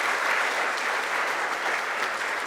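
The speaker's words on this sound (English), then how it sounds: "So I would like to ask also another applause for the team of RES4Africa." Steady, dense audience applause for the RES4Africa team at the organisation's 10-year anniversary event, continuing evenly throughout without voices.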